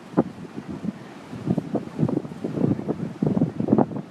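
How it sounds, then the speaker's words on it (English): Strong winds at the Norfolk waterfront in Ocean View batter the microphone in irregular low rumbling gusts, rising and falling in bursts over choppy water noise. "I'm going to take you over here to see some more crazy winds."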